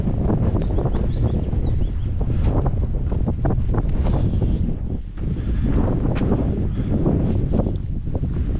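Loud, constant wind buffeting the microphone on a hillside walk near Brontë Falls and Penistone Hill, a dense rumbling roar with gusty fluctuations throughout and no voices.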